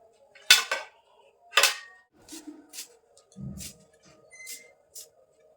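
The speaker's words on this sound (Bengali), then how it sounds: "ধনে পাতাগুলো কিন্তু আমি আগে থেকে ধুয়ে রেখেছিলাম তো কেটে নেব এগুলো কুচি কুচি করে" A knife chops green chillies and coriander leaves on a board, giving a handful of sharp, irregular chopping knocks with short pauses between them, close by and with no talking.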